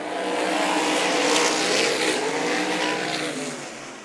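Race cars roar back to speed on a green-flag restart at Meridian Speedway, a loud sustained blend of engines swelling together, then easing slightly as the pack pulls away.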